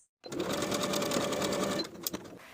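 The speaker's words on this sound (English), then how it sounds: "we're going to edge stitch close to the edges of the opening" A sewing machine edge-stitching close to the edge of fabric straps, running in one steady fast burst for nearly two seconds before stopping with a few small clicks.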